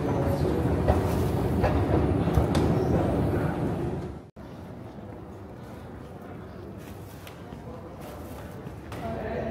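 A subway train ride in Iran fills the car with a steady loud rumble and faint rail clatter that briefly drops, then resumes a little softer, while passengers talk over it.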